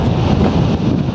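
Strong wind buffets the microphone on a mountain in Snowdonia, a loud, continuous roaring rumble that never lets up across the short stretch, with no talking.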